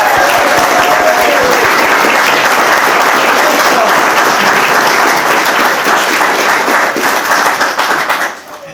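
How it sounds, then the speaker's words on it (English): Wedding guests at a ceremony at Ellingham Hall break into loud, close applause, a thick, sustained wash of clapping that continues evenly for several seconds before dropping off sharply at the end. "I think they deserve a round of applause."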